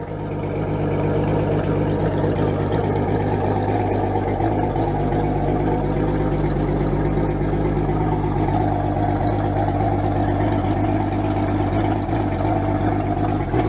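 An outboard motor idles steadily during a freshwater flush that circulates water through the engine to rinse out salt water, a constant close hum with low tonal drone running throughout without pause.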